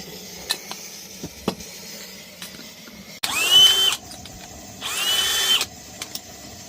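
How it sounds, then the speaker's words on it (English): A power drill whirs in two bursts of a few seconds each, close by, separated by quieter handling clicks and taps. "Let's get to drilling."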